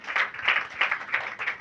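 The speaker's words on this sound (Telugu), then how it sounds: "చప్పట్లు కొట్టండి" A church congregation claps along together during a Telugu sermon, producing a quick run of bright, crowded hand claps in a rhythmic pattern with no speech.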